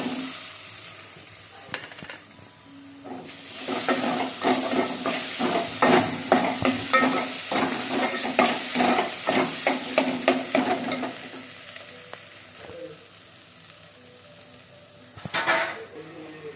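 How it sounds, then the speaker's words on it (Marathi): Cooked tur dal and spices sautéed in hot oil, with a steady sizzle and repeated scrape and clink of a spoon stirring against the pot through the middle stretch, quieter at the start and end. "यामध्येच आपण आता ही जी तुरीची डाळ आहे शिजवून घेतलेली ती टाकून घेणार आहोत।"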